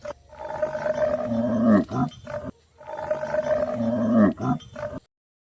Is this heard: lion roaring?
yes